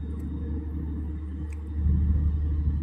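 Vehicles rumble past on a sandy reclamation-area road, a steady low drone of traffic that swells slightly toward the end, with no voices.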